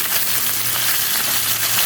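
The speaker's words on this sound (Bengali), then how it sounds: "উল্টে পাল্টে এখন মাছটাকে শুধু ভাজবো" Flipped pabda fish sizzle in hot oil, with a dense, even hiss and crackle heard up close with no pauses and no voices over it.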